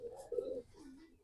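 Low, breathy cooing from a racing pigeon bred for competition, two short coo phrases in quick succession, close and fairly faint, with no other sound around them.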